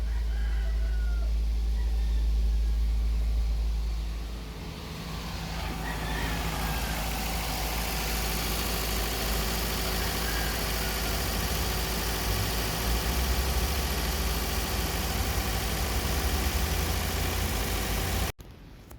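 A car engine runs at high RPM after a choke servo fault was repaired, giving a steady, moderately close drone that continues unchanged for about eighteen seconds and then stops abruptly.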